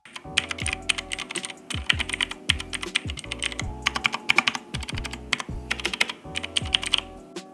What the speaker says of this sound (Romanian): aici avem o tastatură Red Dragon Mitra, pe care am cumpărat-o de pe PC Garage. Este o tastatură mecanică, are switch-uri blue